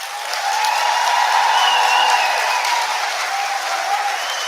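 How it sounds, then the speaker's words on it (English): A graduation ceremony audience for health graduates applauds their teachers with a sustained wash of many hands clapping, full and even in a large hall, staying loud throughout with no break. "Please can we give your teachers a short round of applause"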